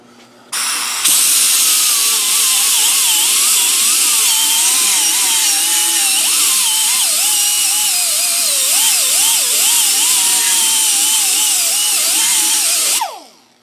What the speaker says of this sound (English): A little 2-inch die grinding with a fairly coarse pad on it, and just cleaning up the hole.